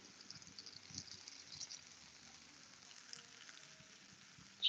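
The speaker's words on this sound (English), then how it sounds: "Get a little bit of sizzle." Shredded Brussels sprouts sizzle quietly in a pan after a splash of cranberry balsamic, a soft steady crackle and hiss with small pops, fairly faint and close, no voices.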